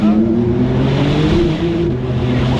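A 750-horsepower Porsche engine roars steadily under load on a bumpy road, loud and close, with a rough, uneven drone and rattling underneath.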